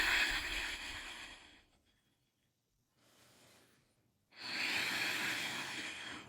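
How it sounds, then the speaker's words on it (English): Two long, breathy ujjayi exhales with an open ha sound, close and soft, with a quieter inhale between them. "And on that exhale, we're going to make a ha sound."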